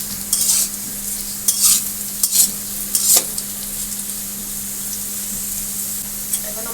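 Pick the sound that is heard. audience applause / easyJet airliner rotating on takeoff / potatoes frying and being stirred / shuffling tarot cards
potatoes frying and being stirred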